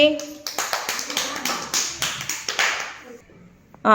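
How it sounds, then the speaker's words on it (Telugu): Children in a primary school classroom clap for a classmate, a run of about ten quick, fairly even claps close by, ending in a short pause before a voice comes in. "వెరీ గుడ్, క్లాప్స్ కొట్టండి నిరంజన్కి."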